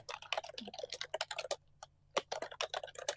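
Fast, furious typing on a computer keyboard, dense clusters of sharp clicking keystrokes with a brief pause midway, close and fairly loud with no voices.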